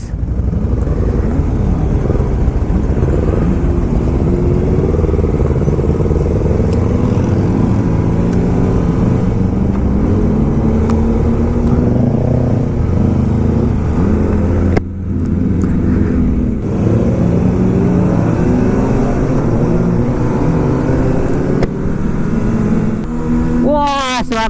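Several Kawasaki motorcycles with aftermarket exhausts rumble and rev loudly in a steady, continuous engine drone on a group Sunday ride in Japan, with talk heard over the noise.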